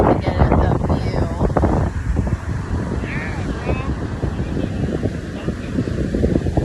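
Wind at the beach gusts and buffets the microphone as a continuous loud rumble, and a voice is briefly audible partway through.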